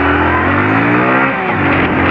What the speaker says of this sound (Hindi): बाइक देखो कितनी स्पीड से भागती है।